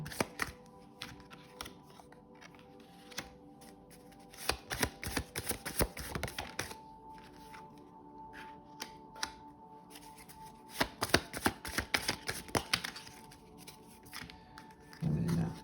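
Tarot cards being shuffled and dealt at a table during a reading, giving repeated dry papery riffles and taps in irregular bursts, moderately close and fairly quiet, with no talk.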